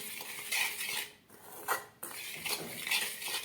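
A spoon mixes chillies with lemon juice in a bowl for Kathiyawadi raita marcha, making steady clinks and scrapes against the dish with a brief pause midway. No one speaks.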